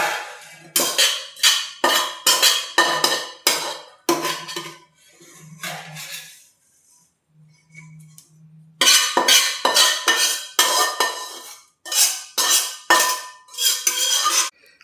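Roasted grated coconut scraped from a pan into a dish with a metal spoon, brisk repeated clinking and scraping strokes in bursts, with a short pause in the middle before the scraping resumes, close and loud.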